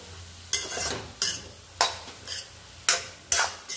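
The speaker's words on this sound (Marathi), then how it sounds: "जेव्हा तुम्ही गाजर तुपावर परतून घ्यायचा" Carrots sautéing in ghee in a pan, with periodic bursts of stirring and sizzling roughly every second, near and fairly loud, with no talk.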